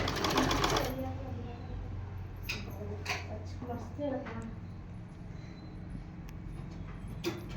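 A sewing machine stitching a blouse gives a short, close, fast mechanical whir at the start, then someone talks over quieter handling sounds.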